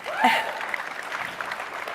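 Applause rises from the audience at CPAC 2017 after an answer on climate change, with a voice or cheer near the start and then a sustained, moderate patter of clapping.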